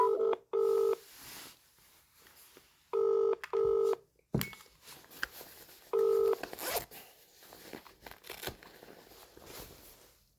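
A mobile call is placed: bursts of touch-tone dialing beeps come in a few quick clusters, followed by clicks, rustling handling noise and line sounds, with no one speaking.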